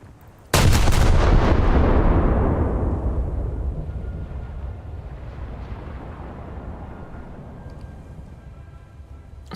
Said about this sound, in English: Something's trying to shoot at me.